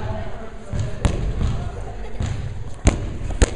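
A flat basketball thuds dully on a gym floor a few times in irregular, deadened bounces, heard over background chatter and voices.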